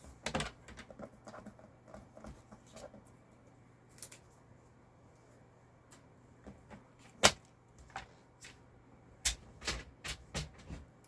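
Cardstock being cut along a groove with a paper trimmer, a series of light clicks, snips and taps at an uneven pace, close and quiet with a faint steady hum beneath.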